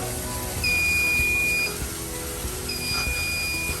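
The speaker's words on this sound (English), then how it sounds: "So this is a fire alarm box. It has some sort of error." A fire alarm panel with a system error gives two long, steady electronic trouble beeps about two seconds apart, each holding a flat tone for roughly a second over a low background hum.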